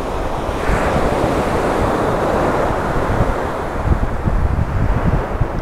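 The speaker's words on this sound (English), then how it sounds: "I think that's just the surf" Sea surf rolling onto a sunny Skegness beach during shore fishing, a loud, continuous wash of breaking waves with steady rushing noise and some wind buffeting, no voices.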